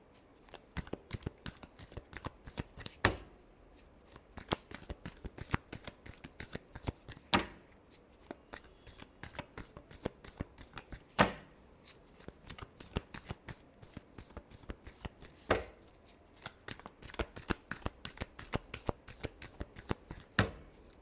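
Tarot cards being shuffled by hand, close and quiet, in a long run of soft riffling flutters broken by occasional sharper snaps as the deck is cut and tapped.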